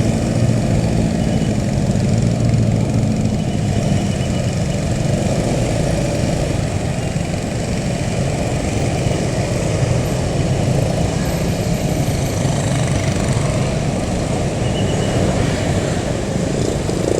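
Car and truck engines idling and creeping in a jammed road in Bandung, a dense low rumble of motors that hums steadily throughout, close and fairly loud.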